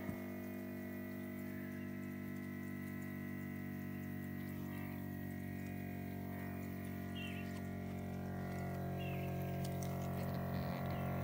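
A 12V water pump powered directly by two 100W solar panels, with no batteries, pushes water uphill to a cistern at the top of a hill. It makes a steady, continuous hum with layered tonal drone and faint water flow, and nobody speaks.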